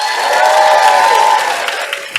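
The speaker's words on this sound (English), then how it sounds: "could I also have a round of applause for our wonderful host for today" A ceremony audience applauds the host with a dense, steady patter of clapping, mixed with some cheering and crowd noise, fading toward the end.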